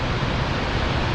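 Steady broadband rush of falling water from the Falls of Clyde at New Lanark, Scotland, a continuous full roar with no breaks and no voices.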